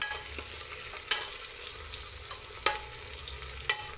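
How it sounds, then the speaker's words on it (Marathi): Tomato and halved green chili frying in oil for chicken biryani, a soft steady sizzle punctuated by several crisp clicks of a spatula on the pot, no speech. "एका मिरचीचे दोन तुकडे करून घेतले ते पण आपण तेलामध्ये परतून घेऊया"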